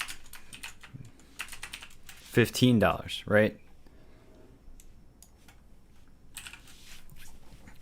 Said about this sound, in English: Gotta get better at typing.